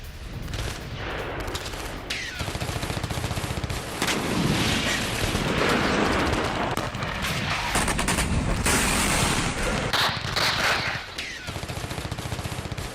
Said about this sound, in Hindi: जंगलों में यूक्रेनी सेना की फायरिंग का वीडियो आया सामने।